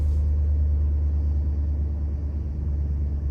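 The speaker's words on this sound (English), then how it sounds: "press the brake and start the vehicle" A 2010-2012 Dodge Ram 3500 truck engine runs at a steady, deep idle, a loud low rumble close by with no talking.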